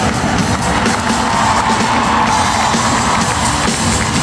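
A large concert crowd at Centro Expositor cheers and claps for the drummer, a loud, continuous roar of voices and whoops that stays dense and steady throughout.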